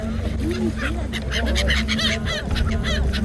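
Flock of Siberian migratory birds, goose-like, honking and calling repeatedly at a river confluence with boats, a steady chorus of overlapping honks close by with a faint voice in the background.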